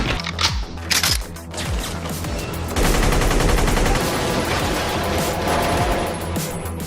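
Bursts of AK-47 Kalashnikov rifle fire crack in quick succession, a rapid automatic rattle that grows denser and louder partway through and keeps going to the end.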